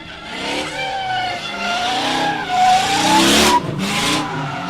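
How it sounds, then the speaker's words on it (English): Baby blue BMW drift car held on the throttle at Meremere Drift Park, engine revving loudly with rising and falling pitch as the rear tyres spin and squeal, close and sustained. "Over the jump he goes, keeps it on the gas, keeps the rear tyres turning."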